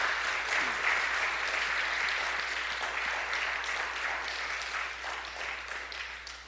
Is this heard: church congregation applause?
yes